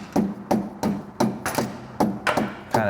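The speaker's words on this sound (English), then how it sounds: "And one area you could tap on the cylinder a little bit is this spigot right here." Hammer taps on the cylinder spigot of a neglected Vespa Rally 200 scooter with the muffler removed, eight sharp metallic knocks at a steady rhythm, close and distinct with no talking.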